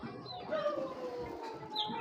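Racing pigeons coo softly in a loft, a few low, wavering calls rising and falling close by, with no talk.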